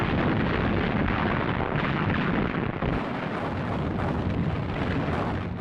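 British artillery bombardment of Rommel's positions at the Battle of El Alamein in 1942, a dense continuous roar of heavy gunfire and overlapping blasts, loud and unbroken throughout.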